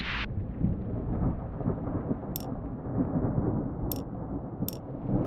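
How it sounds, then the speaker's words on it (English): Continuous heavy rain and rolling thunder from a thunderstorm in the Airport Renovator video game, a dense steady roar with a few brief sharp clicks over it. "There's a storm coming."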